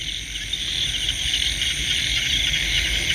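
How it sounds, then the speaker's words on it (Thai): Dense chorus of frogs and insects calling at night in rural Isan, Thailand, a steady shrill trilling buzz with continuous croaking underneath, loud and unbroken with no voices. "เสียงกบเสียงเขียด"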